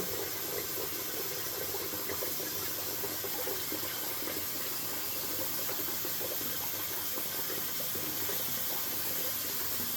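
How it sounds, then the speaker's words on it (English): Tap water runs steadily into a bathroom sink as it fills, a soft continuous splashing hiss with no talking over it. "let me fill up my sink with water."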